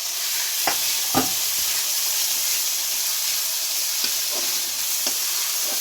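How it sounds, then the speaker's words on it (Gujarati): Finely grated ginger roasts in ghee over a low flame, giving a steady soft sizzle with a few brief scraping stirs of a spoon against the pan. "લો ફ્લેમ ઉપર શેકવાનું છે આદુ।"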